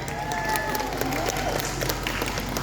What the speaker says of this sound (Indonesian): Tepuk tangan untuk diri sendiri.